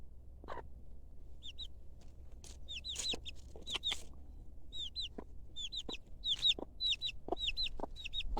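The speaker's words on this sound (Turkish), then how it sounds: "Anne tavuğumuz orada yavrusuyla beraber eşeleniyor, bir şeyler yapıyor" Soft clucks from a mother hen scratching the ground mix with repeated high, thin peeping from her chick, quiet and close, scattered in an irregular rhythm.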